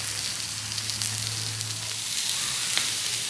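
Beef steak for a Philly beef sandwich sizzling on a hot grill, a steady close crackling hiss with a low hum beneath and occasional sharper pops, no talking.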